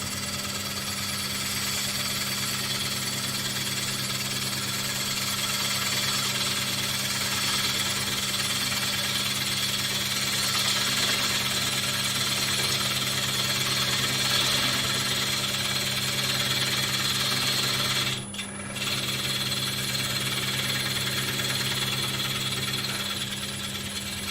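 Large wooden platter spinning on a lathe as the tool picks the cut back up: a steady, continuous mechanical hum with a constant whirring drone throughout, broken only by a brief dip near the end.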